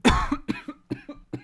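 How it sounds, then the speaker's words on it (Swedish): Someone coughs several times in a row, a strong first burst and then shorter hacking coughs, close and clear. "Nu börjar jag också hosta."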